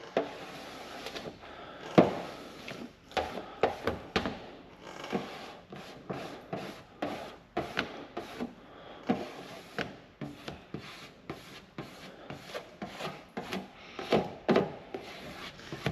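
Squeegee pushing solution under paint protection film on a Tesla Model Y, heard as repeated close rubbing and squeaking strokes in an irregular rhythm, with no talking.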